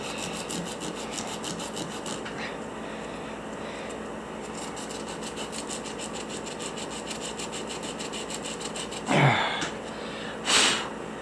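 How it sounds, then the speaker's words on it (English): A fossil sawfish rostrum is sanded by hand with sandpaper in rapid, rhythmic rasping strokes, close and steady, with two sharp louder scrapes near the end. "Every time I take sandpaper to it, it gets a little bit better."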